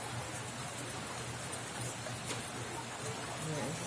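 Steady rain falls during a storm in San Mateo, a continuous even hiss of drops on surfaces with faint scattered sounds beneath, constant throughout.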